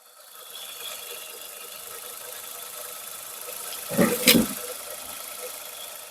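A 2021 Maruti Suzuki Ertiga ZXI engine idles with a steady low hum, briefly disturbed near the end by a couple of sharp knocks or clatters.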